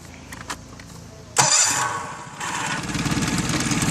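A tiller-handle outboard motor cranks and catches at once, then settles into a steady, loud buzzing idle with a rough, rapid putter.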